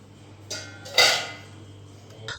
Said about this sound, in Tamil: அந்த டைமில் ஒரு பிளேட் எடுத்து அதை மூடி வச்சிருங்க